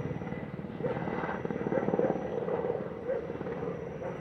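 Steady rhythmic rotor chop of a Colombian army helicopter passing overhead above Siloé, Cali, fairly loud and continuous, with no talking.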